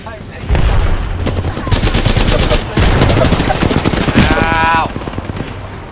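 Rapid automatic gunfire in the video game Apex Legends, loud bursts of rattling shots in quick succession with a brief pause, ending in a ringing, whistling tone.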